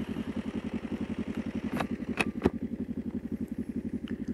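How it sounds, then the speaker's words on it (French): A motorcycle engine idles nearby with a steady, even low thump, joined by a few sharp clicks and knocks partway through, with no talk. "Allez, contact, démarreur."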